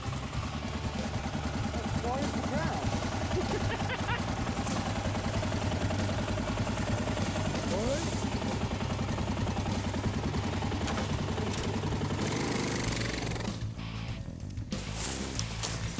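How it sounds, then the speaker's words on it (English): A Suzuki DR650 motorcycle engine fires up and settles into a steady, loud idle on an offroad outing, running continuously throughout with voices speaking over it. "the mighty DR fired right up"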